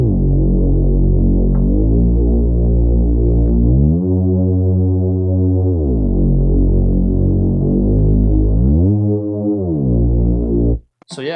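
Deep, distorted EDM synth bass patch from Serum, low-pass filtered with a 24 dB slope near 500 Hz, drones loudly and continuously with throbbing pitch glides, then briefly cuts out near the end.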